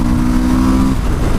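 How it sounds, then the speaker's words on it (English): A Suzuki V-Strom motorcycle accelerates on a test track, its engine note rising as a loud, steady drone with a strong low harmonic for about a second before easing off, with no talk over it. "It's tall like an off-road bike, but then it accelerates like a road bike."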